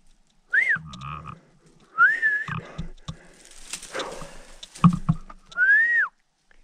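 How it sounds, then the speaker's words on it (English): A breathless person whistles outdoors near an old mine shaft in Alaska, giving several short, wavering whistles separated by heavy panting breaths and rustling, close and fairly loud. "Can't hardly whistle, I'm out of breath."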